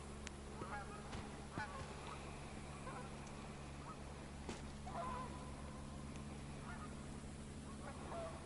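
Faint, distant geese honking scattered over a quiet outdoor hum, with a few scattered calls and a soft click or two.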